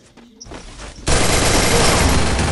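In a video game, after a quiet start with faint clicks, a sudden burst of rapid gunfire erupts and continues loud and dense to the end.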